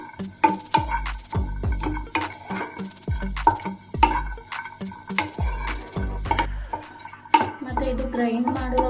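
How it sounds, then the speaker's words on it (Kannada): Dry fruits with blueberries and raspberries being roasted in a pan, heard as a close, rhythmic series of spatula knocks and scrapes against the metal over a faint sizzle, about two strokes a second. "ಇದಕ್ಕೆ ಸ್ವಲ್ಪ ನಾನು ಬ್ಲೂಬೆರೀಸು, ರಾಸ್ಬೆರಿ ಅದೆಲ್ಲ ಹಾಕೊಂಡು ಇದನ್ನು ಸ್ವಲ್ಪ ರೋಸ್ಟ್ ಮಾಡ್ಕೊಳ್ಳೋಣ"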